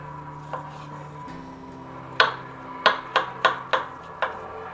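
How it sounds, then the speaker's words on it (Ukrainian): Several sharp knife chops finely cutting mushrooms on a board, spaced a little apart and growing more regular, close up over quiet background music. "П'ять середніх шампіньйонів наріжемо мілко."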